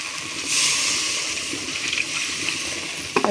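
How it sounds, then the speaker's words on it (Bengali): Water pours steadily into a pan of fried spice paste for a fish curry, a continuous close rushing hiss with a small splash at the end. "তো এখন আমি জল দিয়ে দেবো।"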